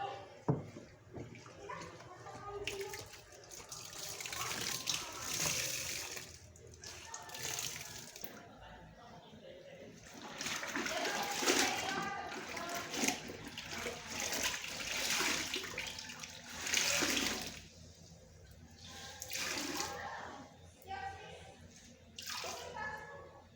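Water running and splashing while laundry is rinsed by hand, coming in bursts of pouring and sloshing with quieter gaps, close by, with faint voices in the background.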